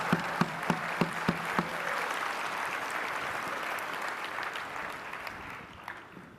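Audience clapping in a large convention hall during a rabbi's keynote address, a few sharp claps at first, then steady broad applause that slowly fades.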